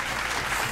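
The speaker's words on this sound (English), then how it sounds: "Add in studio applause." A short burst of studio applause sound effect, a dense wash of clapping that is steady and fairly loud for under a second.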